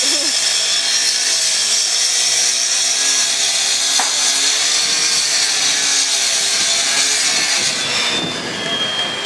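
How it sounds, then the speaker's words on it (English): A power saw cuts and trims brick on a construction site, a steady, loud, unbroken grinding whine that fills the whole stretch and eases slightly only at the very end. "They're trimming brick."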